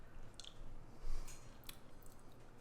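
Quiet, close chewing of a bite of creamy BBQ smoked chicken enchilada with roasted Hatch green chile, soft wet squishing and a few light crunches over low room hiss, no talking.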